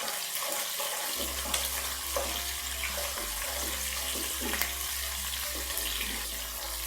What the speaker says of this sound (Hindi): हल्का सा फ्राई करेंगे और जाएंगी ये हरी मिर्चें